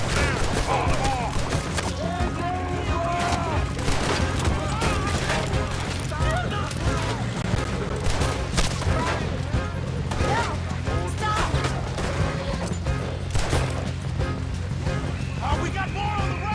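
Dense, continuous gunfire fills a video game firefight during a tram and train robbery mission, with rapid overlapping shots and crashes sounding loud and close throughout, and shouting voices mixed in.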